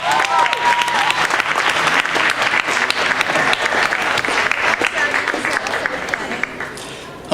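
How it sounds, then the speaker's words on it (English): A comedy hypnosis show audience breaks into loud, sustained applause that keeps up steadily for several seconds, thinning slightly near the end before a final burst. "Give them all a big round of applause"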